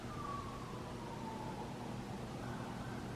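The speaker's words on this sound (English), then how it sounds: "cop sirens" A police siren wails faintly in the distance, its tone sliding slowly downward over steady background rumble at a scrapyard.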